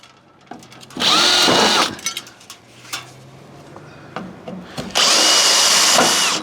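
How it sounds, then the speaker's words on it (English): Power drill with a 3mm bit drilling out pop rivets on a gutter downpipe, two loud close whining bursts separated by quieter clicks and handling noises. "use a 1/8 drill bit, so a 3mm drill bit, and just drill them through and drill them out"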